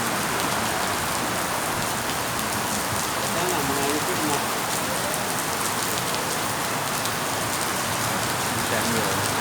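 Heavy rain pours steadily at night in Jizan, Saudi Arabia, a dense, constant roar of drops on surfaces with no letup, and faint voices underneath.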